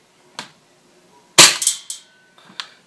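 KWA H&K USP airsoft pistol being cocked and fired, a soft click and then one sharp loud snap with a short rattling tail, followed by fainter handling clicks, close by and without speech.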